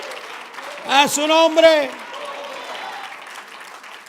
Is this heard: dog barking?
no